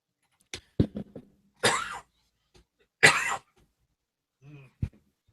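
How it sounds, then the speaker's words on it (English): Two harsh, chesty coughs from a person with bronchitis stand out from quieter throat noises and short grunts, spaced apart, with silence between them and no talking. "you got bronchitis and you're coughing like that."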